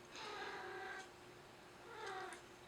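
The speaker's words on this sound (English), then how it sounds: "if you hear Ollie meowing, he's wrestling with Buttershaw." Two short cat meows from a cat wrestling with another cat, moderately close, separated by a brief pause, with faint room noise between them.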